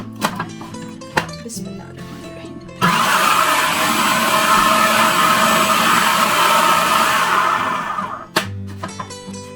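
Kitchen blender crushing green coriander and green chillies, a loud steady motor whir of about five seconds that starts abruptly and stops, with brief clatter and handling noises before and after.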